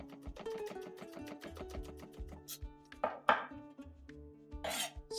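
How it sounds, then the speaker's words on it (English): A knife finely chops crushed garlic cloves on a board for beef samosas. The rapid, rhythmic chops are close and crisp, with a few scraping strokes toward the end. "Finely chop this garlic."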